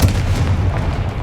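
A Confringo fire spell explodes in Hogwarts Legacy, a loud heavy boom that opens the moment and fades into a rumbling tail.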